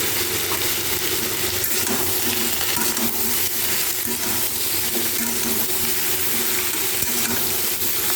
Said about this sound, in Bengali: ভালো করে ভাজবো